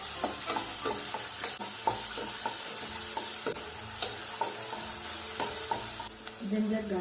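Finely chopped onions sizzle loudly in hot oil for biryani, with repeated scraping stirs of a spoon against the pan, close up.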